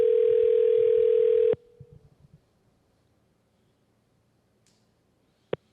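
A telephone call tone drones steadily for about a second and a half, then cuts off abruptly into near silence, with one short click near the end, as the call goes unanswered before reaching voicemail.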